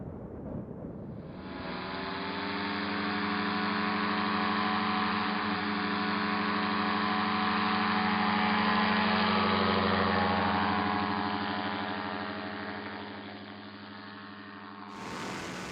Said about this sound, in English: I was surprised when the engine started on the third try.